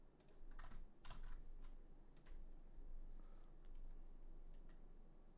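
A computer keyboard gives off several quick, faint key clicks, scattered in short bunches with pauses between, over a low steady room hum.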